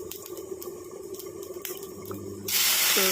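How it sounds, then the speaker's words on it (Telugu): Two glasses of water are poured into a pan of fried vermicelli, with a sizzle giving way to a sudden loud rush of hissing, splashing water in the last second. "2 గ్లాస్ వాటర్ పోస్తున్నాను."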